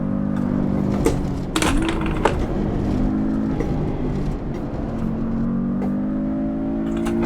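A Porsche 718 Cayman S engine in Assetto Corsa on the Nordschleife, droning steadily with shifting pitch as the car accelerates, loud and close, with a few brief clicks over it and no talking.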